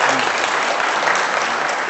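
A debate audience claps loudly between Michael Shermer and Dinesh D'Souza, a thick, continuous wash of many hands clapping that stays full and steady for the whole stretch.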